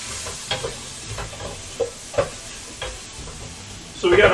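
Onions and garlic warming in a pan on the stove, a constant low sizzle with a few spoon scrapes and taps, growing louder near the end.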